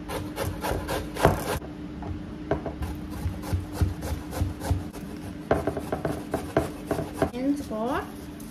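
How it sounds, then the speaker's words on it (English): Carrots rasped against a grater for Vietnamese spring rolls, a steady run of close scraping strokes that gives way to quicker, lighter strokes near the end, with no talk. "I'm grating a cup of carrots."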